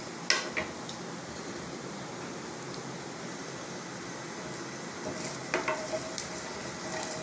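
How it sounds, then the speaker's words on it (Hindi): Whole red chilies fry in hot oil with a soft, continuous sizzle, joined by a few faint clinks of a utensil against the pan near the start and again toward the end. "और लाल साबुत मिर्चें। इसे हम ऑयल में फ्राई करेंगे कि खुशबू आने लगे"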